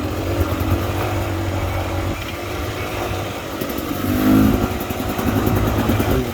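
A 2022 Beta Xtrainer dirt bike with an aftermarket fat exhaust pipe climbs a rocky cliffside trail, its engine putting steadily at low revs with brief throttle swells, close up, alongside rattling and clatter from the ride.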